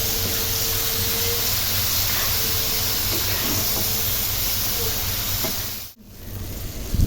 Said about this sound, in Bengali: এবার এই মশলাটাকে সুন্দর করে নাড়াচাড়া করে আমি কষিয়ে নেবো